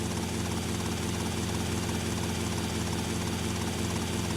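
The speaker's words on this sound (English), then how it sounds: "Now that I found the right helicopter." A video game helicopter flies with a steady, loud rotor drone and engine hum that stays constant throughout, with no other sounds.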